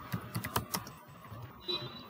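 Quiet clicking of keys on a computer keyboard, a quick burst of taps followed by a pause and a few more, close and soft.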